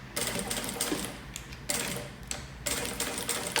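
A straight-stitch sewing machine stitches a wallet that converts into a bag, running in rapid mechanical bursts with a brief pause between runs.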